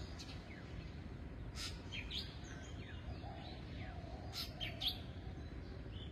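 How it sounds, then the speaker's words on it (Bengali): Birds chirp and tweet around an early-morning village, with scattered short calls, some nearer and some farther, over a low steady ambient rumble, quiet overall with no talking. "পাখির কি শব্দ শোনা যায়?"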